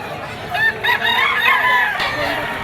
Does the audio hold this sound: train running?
no